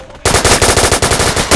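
Rapid automatic gunfire from the Roblox game Revenge Turf, a loud, close burst of evenly spaced shots rattling off for over a second after a brief quiet start.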